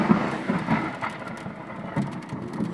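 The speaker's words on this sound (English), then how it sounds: "you are now listening to the storm that was" A thunderstorm with steady rain, a broad, continuous wash of rainfall with low rumbling swells of thunder rising and falling throughout, moderately loud and with no voices.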